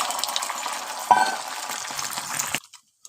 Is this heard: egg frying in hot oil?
yes